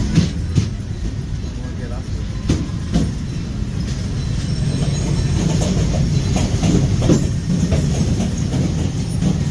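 Disneyland train rolling into a station, a steady low rumble of wheels on track with scattered clacks and faint squeals, growing slightly louder toward the end, a background announcement voice faintly present.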